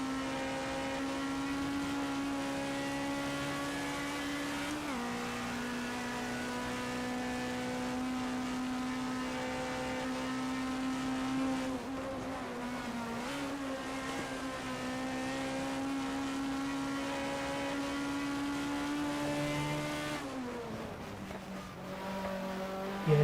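Simca 1200XS race car engines drone at Goodwood during an overtaking battle, a steady high-revving hum with gear-shift dips in pitch at intervals, close and continuous, with no talking.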